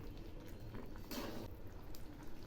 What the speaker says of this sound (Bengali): এগুলি একটু একটু ফুটছে।